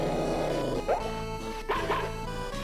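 A dog in the video game Mother 3 gives a couple of short, high yipping barks, loud and close over steady game music, no talk.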